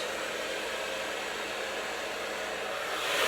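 A hair dryer blows steadily at close range while long hair is dried at the roots and shaft for volume, a continuous loud airy roar that swells slightly at the end.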